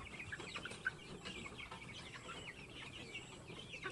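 Quiet clucking of chickens, several soft intermittent calls over a low background hum.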